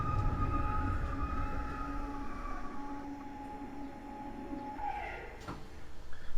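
A North London Line electric train in the OpenBVE simulator hums and whines as it runs, with steady motor tones that shift and drop as it slows, then a brief clunk near the end; no one speaks.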